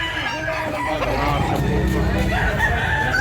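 A rooster crows in a busy Cebu chicken market, its long harmonic call rising over steady crowd murmur and general bustle, with other fowl faintly in the mix.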